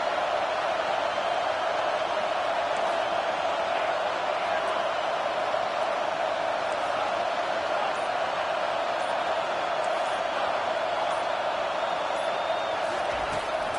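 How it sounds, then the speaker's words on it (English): Steady roar of a stadium crowd in a college football video game, a dense continuous wash of cheering noise that stays loud and unbroken the whole time. "The roar of the crowd trying to fuel this defense to keep them pinned in their own end."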